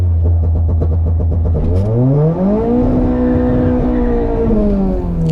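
A K24-swapped Honda Civic at a drag strip launching with little RPM, the engine loud and close, first holding a low bogged note, then climbing steadily in pitch as it pulls through first gear.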